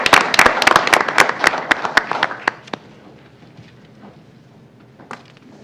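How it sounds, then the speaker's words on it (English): A small audience at a Lacey Township High School board meeting claps for the Senior of the Month: close, scattered hand claps for about three seconds that thin out and fade into a quiet room. "Round of applause for them"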